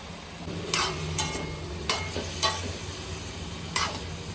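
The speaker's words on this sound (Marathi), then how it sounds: "ह्यामध्ये तेल टाकणार, मग देन ह्या मिरच्या, थोडं मीठ आणि हळद ह्यामध्ये टाकतो." Chillies frying in oil with salt and turmeric, giving a steady close sizzle with a few sharp scraping stir strokes spaced through it and no voices.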